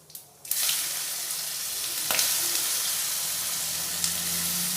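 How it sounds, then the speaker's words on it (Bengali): Finely chopped onions hit hot oil tempered with whole cumin, setting off a loud, steady frying sizzle with a few sharp pops and stirring scrapes, close by and with no voice. "এবার ওতে দিয়ে দেব এইভাবে মিহি করে কুচিয়ে নেওয়া পেঁয়াজ।"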